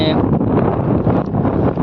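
Strong wind buffets the microphone on a house rooftop terrace, making a loud, steady roaring rumble that barely lets up.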